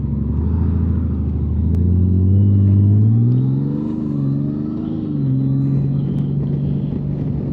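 A Honda Gold Wing motorcycle carrying a passenger on a ride, its smooth engine humming loud and close with a rising and easing pitch as it accelerates and settles, wind rushing underneath, no talk.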